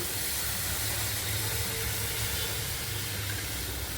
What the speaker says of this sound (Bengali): এই জলটা ফুটে উঠেছে